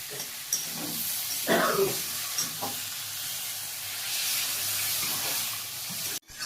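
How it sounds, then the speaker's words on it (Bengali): Water splashes into a pan of sizzling spiced pumpkin curry, a sudden rushing burst followed by steady loud hiss and frying crackle, with occasional stirring scrapes, ending abruptly. "কষানো হয়ে গেছে, জল দিয়ে দিচ্ছি।"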